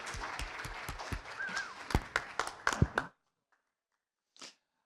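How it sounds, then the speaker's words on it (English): Brief applause from a conference audience at a Bitcoin event stage, several sharp claps over a soft crowd bed for about three seconds, then it stops abruptly into near silence with one faint short sound later. "Let's give him a round of applause."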